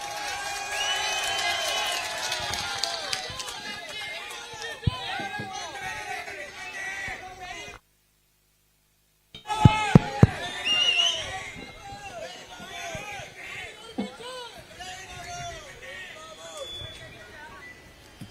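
A dense crowd at a political road rally in Tamil Nadu, a roar of cheering and babble under loud amplified speech, cutting out briefly to silence before resuming with sharp bangs and continued noisy hubbub.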